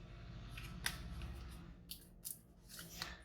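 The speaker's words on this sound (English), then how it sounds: "Just fold these two flaps into here, and then pop this over the top and fold it down." Paper flaps on a gingerbread gift box made with stamping dies are folded and pressed down by hand, giving a few soft crisp crinkles and snaps close up, with no talking.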